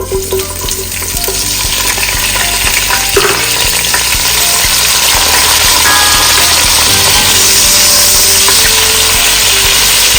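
Onions, peppers and scallion fry loudly in a pot for a liver stew, a dense steady sizzle with scraping stir sounds and occasional clinks, close and without speech.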